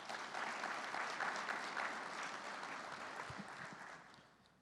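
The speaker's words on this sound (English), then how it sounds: "Would y'all give them a round of applause?" A crowd claps steadily in a dense wash of applause that gradually fades out toward the end.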